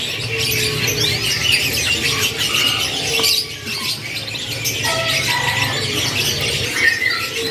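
Local canaries sing constantly at a bird market kiosk, a dense layer of bright chirps, trills and squawks from many birds, steady and fairly loud with market background noise.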